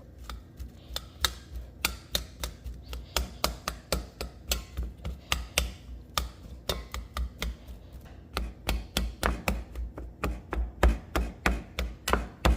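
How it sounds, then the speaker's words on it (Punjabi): Boiled potatoes are mashed for an aloo paratha filling, giving a steady run of sharp, regular knocks and thuds, like a utensil striking a bowl or board, close up and alone with no talk. "ਜਿਹੜੇ ਆਲੂ ਆ ਉਹ ਉਬਾਲੇ ਹੋਏ ਆ ਤੇ ਹੁਣ ਆਪਾਂ ਇਹਨਾਂ ਨੂੰ ਚੰਗੀ ਤਰ੍ਹਾਂ ਇਹਨੂੰ ਫੇਲਾਂਗੇ ਸਾਰਿਆਂ ਨੂੰ"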